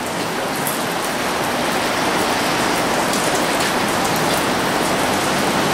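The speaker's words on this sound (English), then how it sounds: "Freaking raining like a son of a bitch outside. It's really coming down now." Heavy rain pours down steadily, a dense, constant hiss of drops hitting surfaces with no pauses and no voices.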